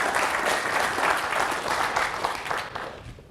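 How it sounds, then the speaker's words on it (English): An audience at a conference keynote on software testing applauds warmly, a dense, even wash of many hands clapping that holds for a few seconds and tapers slightly at the end. "let's just give Phil, the program chair, a round of applause."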